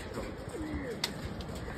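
A pigeon gives a soft, low, throaty coo, faint against a steady background hiss.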